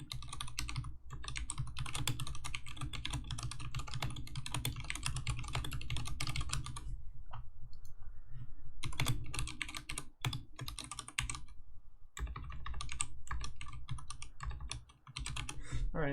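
Rapid typing on a computer keyboard, close and continuous, with dense key clatter broken by a few short pauses before bursts of keystrokes resume.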